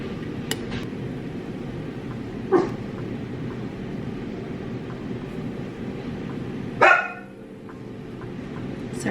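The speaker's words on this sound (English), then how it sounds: "Sorry, my dog is being so sassy today" A single dog bark sounds sharply from nearby over a steady background hum, with a fainter earlier yip, and no talking.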